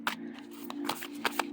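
Quiet, close shuffling of a Back to the Future tarot card deck, a few soft crisp card flicks and rustles in quick succession.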